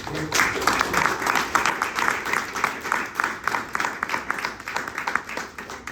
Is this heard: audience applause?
yes